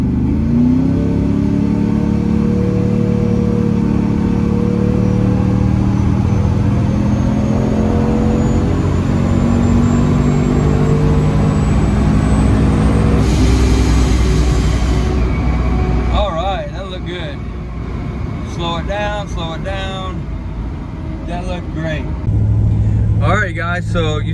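A car with a Boost-a-Pump step-up plug accelerates hard up to 40, its engine drone rising steadily in pitch through the gears under loud cabin noise, then easing off as clicks and a brief voice follow.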